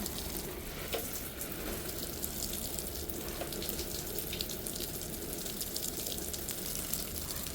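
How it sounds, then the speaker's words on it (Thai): Strong jet of water from a garden hose at full pressure drenching potted emerald ZZ plants and their potting mix, a steady broadband hiss and splatter running continuously without pause. "น้ำจักสายยางแบบรุนแรงสุดนะคะ"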